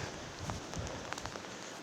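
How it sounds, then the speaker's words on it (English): Light rain begins falling in a forest plantation, a soft, steady patter of drops on leaves and ground with a few sharper taps, quiet and with no one talking. "it's starting to rain now"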